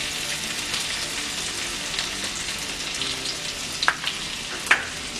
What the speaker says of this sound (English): next in the same oil I'll put garlic, 1 tablespoon of garlic and half a tablespoon of ginger